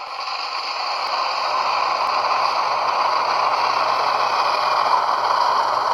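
An HO scale model FA-2 diesel locomotive's sound decoder plays a coasting engine hum at a steady, even pitch with a faint rattle, swelling slightly at first, then holding a constant drone, no voices.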